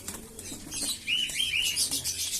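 Home-flown pigeons beat their wings in flight, a rapid papery flutter that rises partway through, with faint chirps nearby and no voices.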